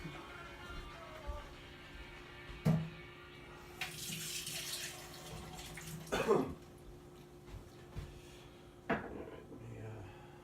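Water runs from a tap in short bursts, a few splashy pours close by with quiet pauses between them and no talking.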